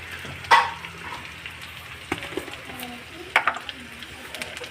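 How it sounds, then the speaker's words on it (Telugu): Curry leaves fry in oil for a curry leaf pickle, giving a faint steady sizzle with occasional louder pops and spatters and a few stirring knocks. "ఒక 10 నిమిషాలు కరివేపాకుని ఇలా ఆయిల్లో వేయించాక"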